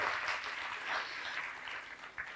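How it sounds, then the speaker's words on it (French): Brief, quiet applause from a comedy-club audience, a soft wash of scattered clapping that fades slightly toward the end, with no voices over it. "Oui, vous pouvez applaudir."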